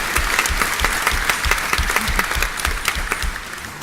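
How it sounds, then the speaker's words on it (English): Audience at a county council regular session applauds steadily for about four seconds, a dense, even patter of many hands clapping in a meeting room with no talking over it. "All right, let's give Scott a round of applause."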